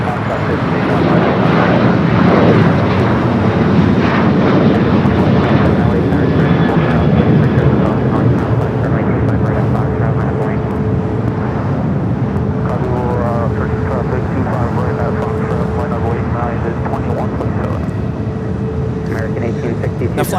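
A Boeing 737 roars down runway 25 right at LAX on takeoff, a loud continuous jet engine rumble and whine filling the whole stretch, with faint radio talk underneath.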